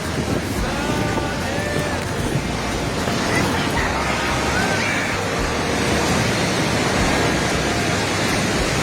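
A flooded mountain river in Nepal surges past nearby in a loud, unbroken roar of churning water, with wind buffeting the microphone and faint shouting voices.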